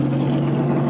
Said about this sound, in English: Car has been refired.